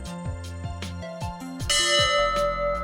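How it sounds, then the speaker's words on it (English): The Abana Bell, a church memorial to Royal National Lifeboat Institution crews, sounds in a quick series of clear, clanging strikes whose tones overlap and ring on. "ring the bell"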